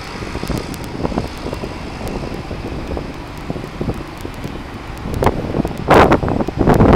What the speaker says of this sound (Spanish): Hoy un día bastante ventoso, por eso es que vemos que se mueve el portón